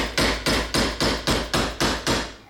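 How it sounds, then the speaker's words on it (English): A hammer strikes sheet metal in eight strong, evenly spaced whacks, drawing the metal down into a flute relief cut while forming a rear rib, each blow loud and ringing briefly before the next. "you give it a good couple of strong whacks and kind of draw it down towards you as you do it"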